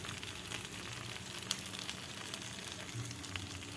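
Ground turmeric, coriander and cumin frying in hot oil for a Bengali katla fish curry, a steady soft sizzle and crackle that stays even throughout with a few small pops.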